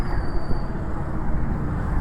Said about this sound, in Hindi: ये देखो रेलवे का ये जो है पहिया जा रहा है